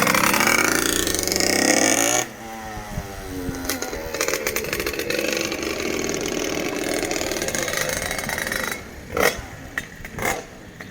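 A Derbi moped's two-stroke engine idles while warming up, a steady buzzing drone near the mic after a louder first two seconds, with a few sharp revs or knocks toward the end.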